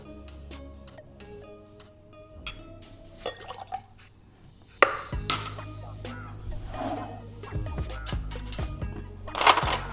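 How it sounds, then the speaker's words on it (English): Ice scooped into a glass for a honey calamansi cocktail: sharp clinks and rattles of cubes against glass and scoop, sparse at first and then a denser, louder tumble of ice, close up. "Ice scoops, if you have ice scoops, so just one ice scoop"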